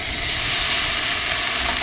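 Onions and ponnaganti leaves fry in hot oil in a pan, giving a loud, dense, continuous sizzle and hiss close by, with no talking.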